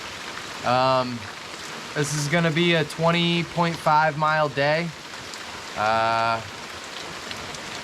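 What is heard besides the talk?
heavy rain falling on a hiker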